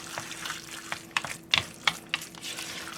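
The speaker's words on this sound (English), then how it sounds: "Now, I'm just going to give this a stir." A spoon stirs a soy sauce, garlic and ginger marinade in a bowl, giving soft liquid swishes and a few light clinks against the side, close and with no talk.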